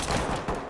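Rapid bursts of gunfire crackle through a video game firefight, dense and loud over about a second with no pauses between volleys.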